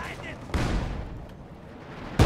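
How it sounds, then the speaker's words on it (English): Light artillery shells land in a World War II strategy video game, with Fallschirmjäger troops on the field: a few loud, sharp booms over a low rumbling battle bed, one burst near the start and another close, heavy impact at the end. "Here comes the light artillery barrage."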